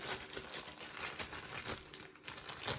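Plastic Lego bag crinkles and tears open in a series of quiet, close rustling bursts, with no talking.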